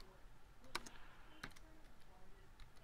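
Quiet clicks of someone typing on a computer keyboard, a few isolated close key taps spread over faint room noise.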